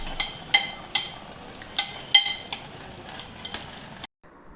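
A spoon stirs vegetables cooking in a pan, striking the metal in about nine distinct clinks at a loose, regular pace over a faint sizzle, close and without talk, then it stops abruptly.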